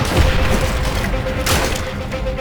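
Gunfire in Call of Duty: World at War on a veteran campaign mission, with dense rattling shots continuing throughout and one sharp loud burst in the middle.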